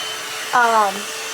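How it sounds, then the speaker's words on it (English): A handheld hair dryer blows steadily while hair is being brushed, its whirring rising briefly in pitch and loudness before settling, close and continuous. "So sometimes I'll accidentally shut off the dryer"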